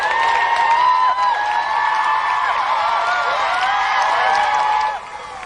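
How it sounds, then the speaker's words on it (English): Studio audience on a 1993 GamesMaster episode applauding and cheering a contestant, with sustained dense clapping and whoops at steady loudness that drops slightly in the final half second. "Applause for Emily Taylor!"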